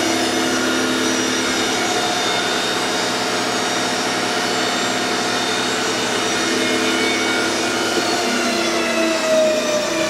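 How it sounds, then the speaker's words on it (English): SCMI T110 wood shaper motor spinning up and running steadily, a loud continuous machine drone with a whine that stays constant throughout, with no talking. "We're going to start that shaper real fast."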